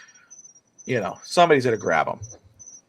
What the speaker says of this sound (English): the crickets are loud tonight